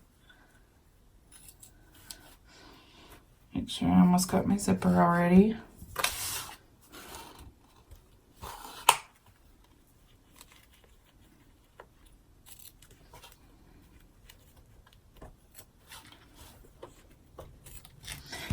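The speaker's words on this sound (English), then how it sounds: "I'm gonna go ahead and just start cutting." Scissors cut away excess fabric just above a zipper on a small sewing project, a burst of close crisp snipping under a woman's speech, followed by quieter rustling.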